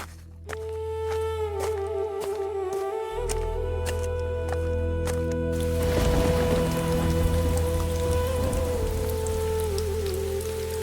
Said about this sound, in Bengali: বর্ষার মৌসুম গ্রামে ঝুম বৃষ্টি হচ্ছে